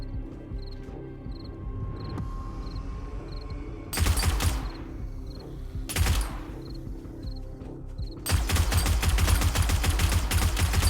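Bursts of automatic gunfire in the survival game 7 Days To Die, loud dense volleys breaking out several times over a steady hum, with faint repeated electronic chirps in the background.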